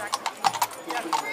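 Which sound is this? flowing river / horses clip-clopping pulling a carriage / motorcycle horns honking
horses clip-clopping pulling a carriage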